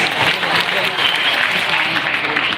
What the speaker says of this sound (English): let's give them a round of applause for all they do for our students